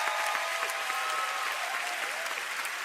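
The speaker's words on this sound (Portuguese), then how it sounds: "Posso ver suas palmas poderosas e o seu mais alto amém?" A church congregation in Singapore claps loudly and steadily in a sustained, even round of applause, with faint voices woven through the clapping.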